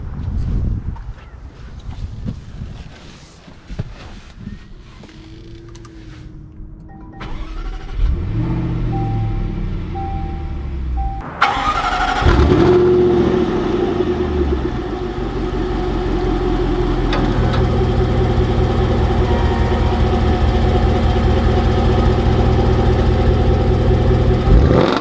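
A 2020 Jaguar F-Pace SVR starts up with a sharp crank and flare, then settles into a deep, close idle that swells into sustained, rumbling revving and driving, loud and alone.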